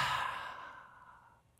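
A person breathes out in one long audible exhale, like a sigh, imitating breathing on someone. It is close and starts strong, then fades over about a second and a half.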